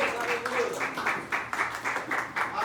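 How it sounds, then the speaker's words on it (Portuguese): A church congregation applauds during a worship service, a scattered, moderately distant patter of hand claps that swells and dips in uneven waves for a couple of seconds. "Você pode sentar aplaudindo ao Senhor."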